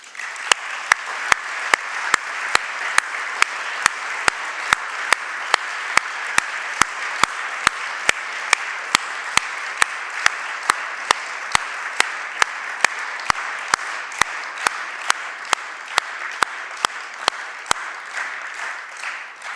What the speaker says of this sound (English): I would like us to give them a big applause.